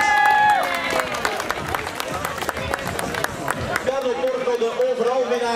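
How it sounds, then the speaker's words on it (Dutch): An outdoor crowd at an amateur and masters cycling race in Retie claps and cheers for the winner, a scattered, moderately close applause under a loud amplified announcer's voice and a brief tone. "Een applausje graag voor Carlo Porto"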